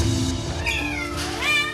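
A cat at an SPCA shelter, dumped over a fence, meows in a few drawn-out, wavering calls against a steady background hum, close and fairly loud, with no talking.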